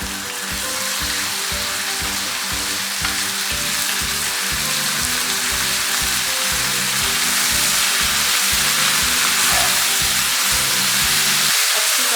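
Chicken mince fries in a pan with spinach keema cooking, a loud, continuous close sizzle with a rapid crackling texture and a soft stir at the end.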